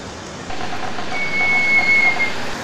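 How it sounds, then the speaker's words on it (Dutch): A train pulls into platform 1 at a station, its rumble building after a quieter start, with a thin sustained high squeal from the wheels or brakes as it slows, loud and close. "de trein met de bestemming Hers en loopt binnen enkele ogenblikken binnen op spoor 1 van station Baarschap Noord"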